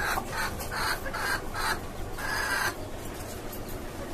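A newly acquired tiger-breed hen clucks in a series of close, loud, repeated calls on a chicken farm, with no talking.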